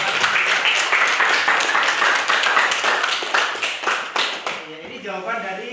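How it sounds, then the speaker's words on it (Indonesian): Applause in a sixth-grade classroom, many small hands clapping in a dense, even patter that fades toward the end as a teacher's voice takes over. "Tepuk tangan dong untuk"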